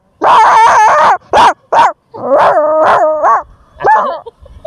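An eight-year-old boy imitates a dog, barking in short yelps and then drawing out loud, wavering howls and whimpers, close and clear with no other sound.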